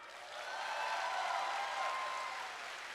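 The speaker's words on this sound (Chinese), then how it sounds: "请拍手一下" Applause from a large hall audience at a regional leadership training meeting, soft and distant, swelling and then fading as a continuous wash of clapping with no talk over it.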